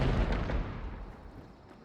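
Gunfire in the Hunt: Showdown video game aimed at a barrel, a loud booming blast at the start followed by a few muffled pops and a long fading rumble, no voices.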